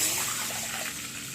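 Tamarind water gushes and hisses as it is poured into a hot pan, a brief, close, steady rushing sound.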